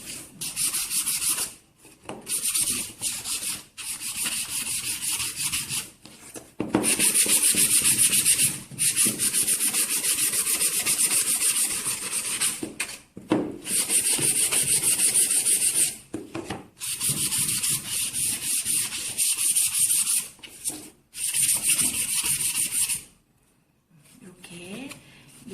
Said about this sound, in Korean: 이렇게 4개의 모서리하고 면을 다 사포질을 했으면